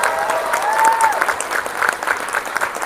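A convention crowd at MEGACON Tampa Bay applauds during a celebrity Q&A panel, a short burst of dense clapping with a few whoops rising over it, fairly loud and close.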